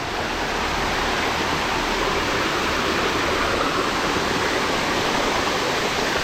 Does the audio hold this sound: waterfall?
yes